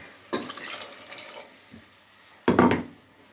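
Water poured from a rinsed mixer jar into a cooking pot for kurma, two splashing pours with a quieter trickle between, close and without talk.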